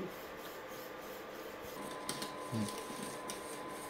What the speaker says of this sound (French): ça fait 10 minutes que je mélange la crème